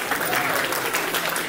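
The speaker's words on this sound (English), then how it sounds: "Let's give them a round of applause" Steady audience applause at a temple silver jubilee celebration, following a devotional bhajan performance; dense, even clapping fills the whole moment at moderate loudness with no pauses.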